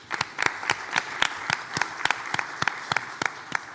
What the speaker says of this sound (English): Let's give Miguelania a big round of applause.